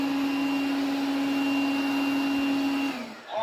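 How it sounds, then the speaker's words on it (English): A robot vacuum cleaner runs under manual virtual-joystick control, giving a steady close whine with a constant motor hum that shifts pitch and drops away near the end. "So now I was trying the manual operation of the vacuum cleaner"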